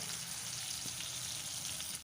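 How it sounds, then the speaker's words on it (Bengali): Pieces of rohu fish fry in hot oil, giving a soft, steady sizzle and hiss that runs unbroken and fairly quiet, with no talking. "উল্টো পিঠটা ভাজা হওয়া পর্যন্ত কিছুক্ষণ অপেক্ষা করব"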